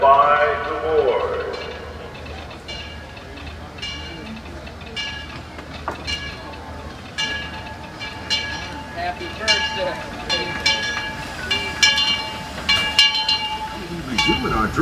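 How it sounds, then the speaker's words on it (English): Disneyland Railroad steam train pulling into New Orleans Square station, with a low steady rumble, clanking and clinking of the cars, and a hiss near the start, beneath a continuous announcer voice. "The Disneyland Limited, now arriving from a trip around Walt Disney's Magic Kingdom."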